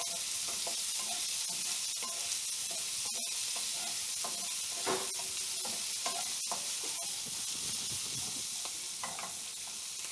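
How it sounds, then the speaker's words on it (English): Squash and zucchini fry in a pan, a dense continuous sizzle with scattered scrapes and clicks from stirring, close and fairly loud throughout. "Okay, these have been cooking for about 5 minutes. Just give them a stir, and look at that beautiful color on the other side."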